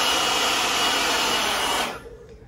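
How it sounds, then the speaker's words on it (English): A DeWalt battery-operated blower runs steadily at close range with a loud, even whoosh, then cuts off abruptly near the end, leaving a faint quiet tail. "We really, really like this DeWalt battery-operated blower"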